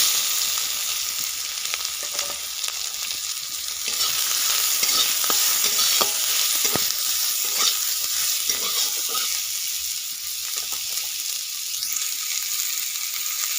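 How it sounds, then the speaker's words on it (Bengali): Onions hit hot oil left from frying eggs and potatoes for an egg curry, giving a loud, steady sizzle with scattered crackles and occasional stirring scrapes, no talking. "তো এই ভাজা তেলে আমি দিয়ে দেব পেঁয়াজ"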